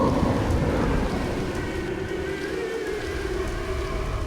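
The rain effect in the video game Legacy of Kain: Soul Reaver 2 gives a steady, dense rainfall hiss with a low rumbling bed, continuous and fairly loud.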